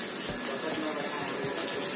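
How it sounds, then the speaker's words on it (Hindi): Water splashes and gushes in a steady, loud rush from a hose or tap aimed at plants and flowers, with voices talking briefly over it. "उधर मारो ना पानी."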